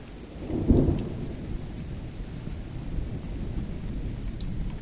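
A thunderstorm in the countryside near a nomad village in southern Kerman, Iran: a loud rumble of thunder early on over steady heavy rain pattering on surfaces, the rain continuing alone afterward.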